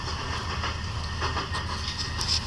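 A Paris métro train speeds up in a simulator game, giving a steady rumbling rail roar with hiss and faint rhythmic clatter, close and continuous throughout.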